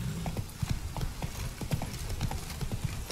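Rhythmic clip-clop of a horse's hooves trotting steadily in the video game Witcher 3: Wild Hunt, close and fairly quiet, with no talking.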